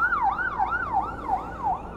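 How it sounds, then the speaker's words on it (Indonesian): An ambulance siren wails in a steady rising-and-falling cycle, heard at moderate distance on a road near the Suramadu bridge at Bangkalan, fairly faint and with no voices over it. "Wah, itu ambulan tuh."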